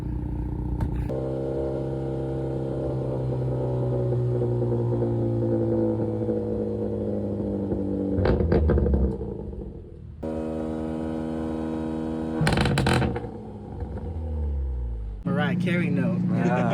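Hyundai Kona N engine and exhaust rev through a steady idle drone with rising and falling harmonic tones, several blips and louder bursts, heard close and sustained, with some talking over it.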